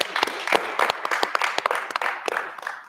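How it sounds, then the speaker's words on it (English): Audience applause for Stanford students at a panel discussion, a moderate wash of clapping with sharp individual claps popping through, steady across a few seconds before easing. "So it's a big round of applause to them."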